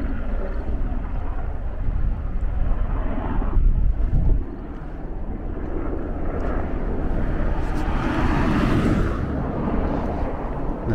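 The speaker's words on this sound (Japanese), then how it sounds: "ね、ヘリコプターが。" A helicopter passes overhead outdoors on a walk, its rotor noise a loud, continuous rumbling wash that swells and fades slightly, mixed with wind buffeting the microphone.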